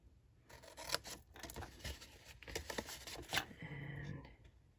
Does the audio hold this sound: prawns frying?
no